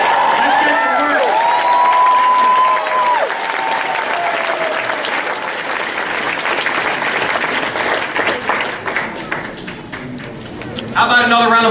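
A crowd at a campaign rally applauds and cheers in a long, dense, loud burst of clapping that slowly thins, while a voice talks over it at the start and a fresh swell of clapping rises at the end.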